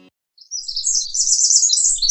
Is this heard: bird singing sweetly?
yes